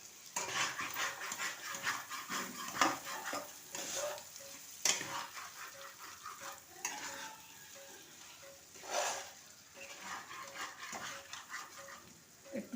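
Potatoes sizzle and fry in hot oil with spices for a dhaba-style potato and cauliflower curry, a steady close crackle with intermittent stirring scrapes over low heat and a few louder clatters.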